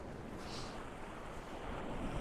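Ocean waves crash onto a snowy Lofoten shore in winter, a dense, steady roar of surf with wind buffeting the microphone throughout and no voices.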